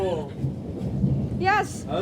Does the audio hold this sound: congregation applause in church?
no